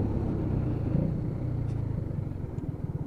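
A Keeway K-Lite 125cc motorcycle rides over speed bumps, its steady low engine rumble continuous and close throughout, with slight bumps and surges in the drone.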